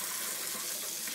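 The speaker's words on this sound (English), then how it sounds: "Are you doing the dishes for me?" Kitchen tap water running steadily while dishes are washed, a constant broadband hiss and splash, close and even throughout without pauses or voices.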